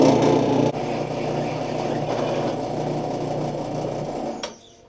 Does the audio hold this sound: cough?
no